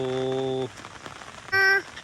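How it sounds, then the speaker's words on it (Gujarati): Rain falls steadily over village fields, a soft, even hiss in the background, interrupted at the start and again near the end by loud, brief tonal sounds. "હજી વરસાદ ચાલુ છે"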